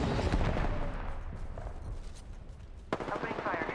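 Rapid gunfire in the shooter Apex Legends cracks out in dense bursts that fill the mix, loud and close, then briefly thin out before another sharp volley erupts.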